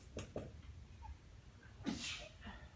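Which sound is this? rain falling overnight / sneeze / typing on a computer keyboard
sneeze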